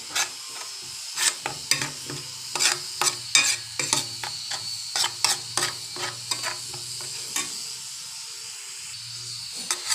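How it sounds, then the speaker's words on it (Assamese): A spoon mixes Katla fish pieces with oil and spices for fish paturi, making busy wet scraping and clinking strokes close by, with a faint hiss underneath. "তো এয়া চামুচেৰে মিক্স কৰি ল'ম ভালকৈ।"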